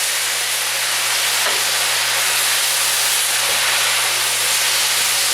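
Garlic and pea shoots sizzle in a hot stir-fry pan, a loud continuous hiss with a faint low hum underneath and no voices.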